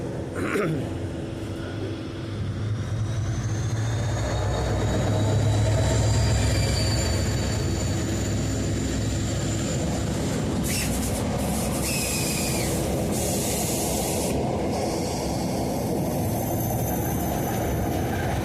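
A freight train hauled by a WDG-4 diesel locomotive passes close by on an Indian rail line, a steady heavy rumble of wagons with wheel squeal and rattling, brief high screeches near the end, and no talk.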